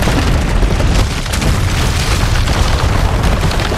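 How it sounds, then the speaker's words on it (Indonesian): A tower blows up in the video game Resident Evil 4 Remake, a loud sustained explosion with heavy booming rumble and crackling debris filling the whole stretch, no talk over it. "Anjay, tower itu kok meledak cuy."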